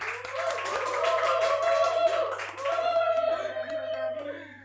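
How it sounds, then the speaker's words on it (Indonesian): Clapping from a studio audience on the Indonesian talk show POCARI runs steadily for a few seconds, mixed with loud sustained voices and a tonal backdrop throughout. "Tepuk tangan dong."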